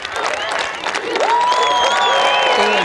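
Golf spectators at the Made in HimmerLand tournament cheering and applauding as a putt drops for birdie, a loud crowd swell of claps and whoops with a commentator talking over it.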